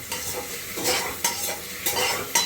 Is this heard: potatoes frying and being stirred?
yes